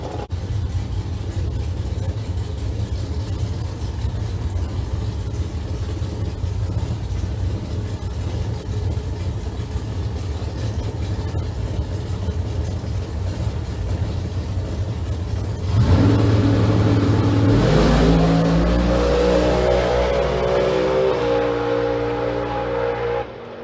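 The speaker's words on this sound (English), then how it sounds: "Paul Glandon, another JS Power Sports tuned nitrous entry." Pro Modified nitrous drag cars at Mission Raceway rumble steadily before a sudden loud launch, the engines roaring and revving through rising gear pulls as they race away, close and powerful with no talk over it.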